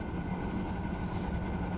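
A train roars past in the Train Simulator Classic video game on the French LGV Rhône-Alpes high-speed line, a dense steady rumble that stays loud and close throughout, with no talking.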